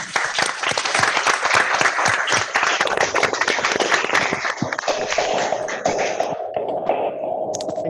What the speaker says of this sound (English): Definitely, you will give big round of applause to DS Raja sir